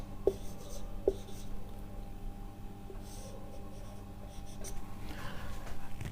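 Chalk or marker scratching out a chemical formula on a board, faint and close, a few quick strokes and taps set against a quiet room hum.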